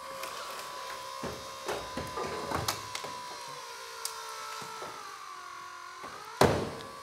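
A hydraulic rescue tool cutting through the upper A-pillar of an electric vehicle, with a low mechanical hum, scattered creaks and metallic clicks, ending in a sharp, loud crunch near the close.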